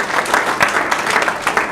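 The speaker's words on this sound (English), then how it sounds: "Give him a great round of applause." Loud, close applause for a mayor at a Petersburg economic development announcement, a dense crowd clapping evenly throughout with a few sharper claps standing out.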